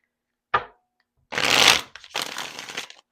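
A single sharp card snap, then two quick riffle shuffles of a deck, close and crisp, with silence between.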